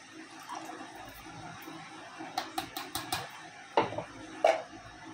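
Spiced water poured into a pan of fried chicken while cooking Konkani-style chicken sukka, with faint background hiss broken by a few sharp clinks and knocks of utensils against the pan toward the end.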